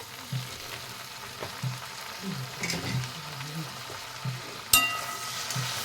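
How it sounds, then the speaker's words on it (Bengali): Malabar spinach and potato fry in a pan with a soft, steady sizzle and occasional stirring scrapes, plus one sharp metallic clink near the end. "আবারও 2 থেকে 3 মিনিট আমি ভেজে নেব ভালো করে ঢাকা দিয়ে"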